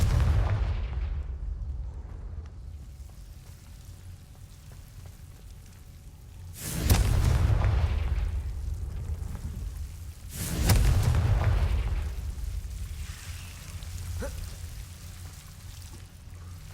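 Two loud blasting-spell explosions go off in Hogwarts Legacy, each a sharp boom followed by a rolling rumble, several seconds apart over a low ambient drone.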